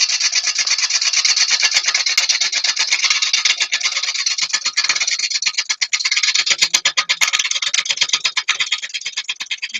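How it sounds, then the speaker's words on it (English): A small gouge carves wood in a continuous close scraping rasp, with repeated quick strokes that grow choppier and more rhythmic midway. "let's try my smaller gouge."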